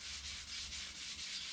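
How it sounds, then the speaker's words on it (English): Hand sanding epoxy on a 1955 Chevy rear bumper with 240-grit paper, quiet rhythmic scuffing strokes repeating at a steady pace, close up and alone. "Just going to give this a kind of lightish sort of scuff. Some 240."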